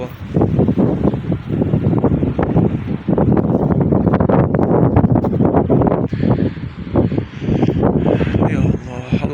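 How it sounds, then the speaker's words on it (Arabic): Strong gusting wind blowing across the microphone outdoors, a loud continuous roar with buffeting surges and brief lulls, while a person talks through it. "زاد الهوا."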